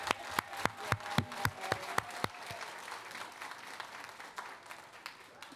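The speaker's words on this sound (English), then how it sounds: "give yourselves a round of applause." Audience members at a school board meeting applaud elementary school guests, with sharp, loud individual claps at first that blend into a steady, denser wash of clapping which gradually softens.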